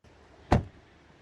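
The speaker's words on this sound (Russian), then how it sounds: "Послушаем звук закрывания двери." A single solid car door slam on a BYD Seal 6 Touring hybrid estate, close and fairly loud, with a short low thud that fades quickly into a quiet background.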